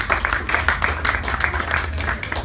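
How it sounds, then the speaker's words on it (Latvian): An audience applauds poet Juris Kronbergs at a book event, a dense, steady patter of many hands clapping at close to moderate distance. "un vēlreiz jūsu aplausus"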